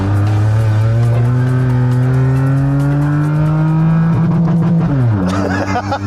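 A car fitted with Formula 1 tyres is driven fast, the engine revving high and climbing while the tyres squeal, then the revs drop sharply near the end, loud and close.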